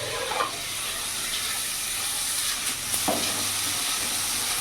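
Carrots and long beans stir-frying in a pan for chicken fried rice give a steady, close sizzle, with a couple of soft scrapes of stirring and no voices.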